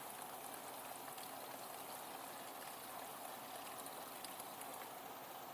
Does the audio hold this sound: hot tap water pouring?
yes